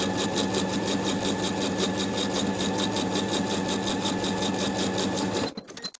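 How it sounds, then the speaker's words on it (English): A domestic sewing machine edge stitches close to the inner fold of a dress hem, running in a steady, loud, continuous whir with rapid rhythmic needle ticking, then stopping abruptly near the end. "I'm going to edge stitch close to the upper inner fold all the way around to complete the hem"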